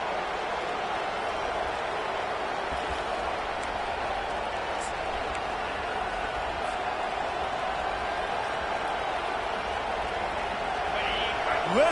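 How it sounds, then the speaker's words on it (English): Steady roar of a packed college football stadium crowd at an LSU versus Texas game, cheering on the home defense; a dense, sustained wall of noise with no breaks, swelling slightly at the end. "Listen to this crowd just shaking the girders of this place, trying to help their defense."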